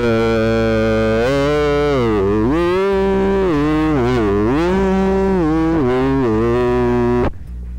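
A man imitates a goat with a long, wavering, nasal bleat that rises and falls in pitch for about seven seconds, loud and close, then cuts off abruptly.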